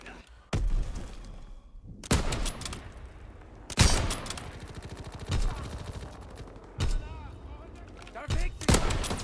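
Anti-aircraft gunfire in the World War II shooter game Call of Duty WW2 comes in a series of loud, sharp bursts every second or two, with game voices mixed in.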